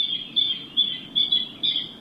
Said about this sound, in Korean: 괌뜸부기 소리다.